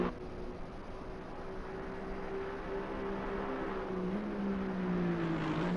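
A Mercedes racing car in a video game drones steadily, its engine tone holding level and then shifting pitch as it revs, fairly faint and without talk.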